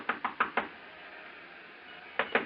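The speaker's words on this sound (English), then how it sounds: "I stopped in front of room 300 and knocked." Knocks on a hotel room door in a radio drama: a quick group of four sharp raps, a pause, then two more, close and clear with no talk.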